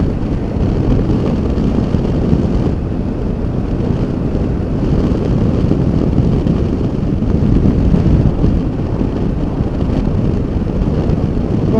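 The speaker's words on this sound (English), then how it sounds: "Getting some side wind gusts there" Steady, loud rushing wind roar from side gusts while riding a Honda CB500X motorcycle buffets the microphone throughout, with low rumbling gusts and no voices.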